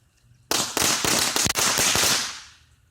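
Lighter-lit fireworks go off in a loud rapid burst of cracking bangs lasting about two seconds, dense overlapping pops that blow a box apart, then fading out with a short ringing tail.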